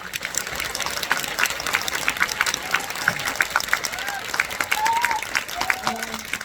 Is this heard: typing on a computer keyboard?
no